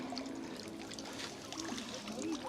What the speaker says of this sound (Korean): 수도꼭지를 살짝 틀어놓고